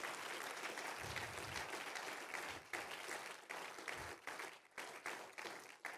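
A church congregation claps and applauds during a worship service, a steady wash of hand claps that fills the room and carries on for several seconds without anyone speaking.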